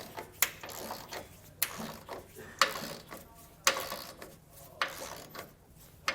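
Torque wrench ratcheting as 3/4-inch bolts on a trailer hitch receiver are tightened on a 2016 BMW X5, with repeated sharp ratchet strokes roughly every second, close and fairly quiet.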